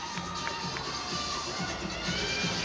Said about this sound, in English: So the hometown crowd given reason to cheer as we get into this 4th rotation.